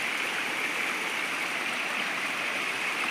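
A clear freshwater river flows in a steady, loud, unbroken rush, with no voices over it.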